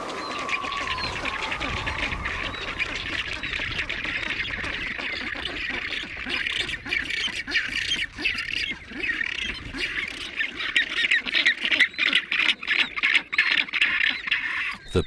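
Rockhopper penguins calling at a breeding colony high above the sea: a dense, continuous chorus of harsh squawks and braying calls from many birds, near and far, steady throughout.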